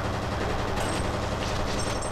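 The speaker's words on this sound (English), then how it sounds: "When you click, it fires off like 3 rounds." An SMG in F.E.A.R. fires over dense, continuous combat noise, with rapid gunfire blending into a steady wash of shots and no clear gaps between bursts.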